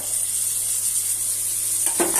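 Ginger, garlic and dried red chillies sizzle and fry with onions in a pan, giving a steady close hiss with a light stir or scrape near the end.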